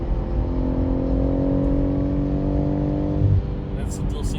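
BMW M140i fitted with a Remus exhaust, heard from inside the cabin as the engine drops a gear and pulls, a rising droning growl that climbs steadily, then a short throttle blip and fade.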